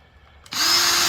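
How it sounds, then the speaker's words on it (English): A power drill bores into an MDF board for a float-mounted photo, starting about halfway through and running steadily and loudly to the end after a quiet lead-in. "and you just take the drill"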